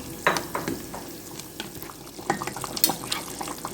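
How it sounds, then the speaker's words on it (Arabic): Okra simmering in a pot as broth goes in for an Egyptian okra-with-meat dish, giving a close, steady sizzle broken by several sharp stirring scrapes and clinks of a utensil against the pot. "نحط لها الشوربه بقى ونسيبها تستوي براحتها"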